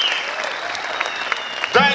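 An audience applauds at an MMA press conference in a hall, with steady, dense clapping throughout and a voice briefly rising at the very end.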